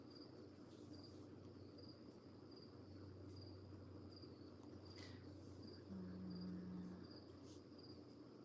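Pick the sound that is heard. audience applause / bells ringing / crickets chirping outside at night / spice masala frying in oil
crickets chirping outside at night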